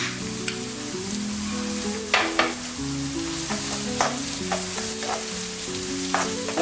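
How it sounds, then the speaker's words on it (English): Onion, garlic and green seasoning sizzle and fry in a pan, stirred with repeated scraping strokes at an uneven rhythm, close and steady, with no talking. "Again, stir everything in."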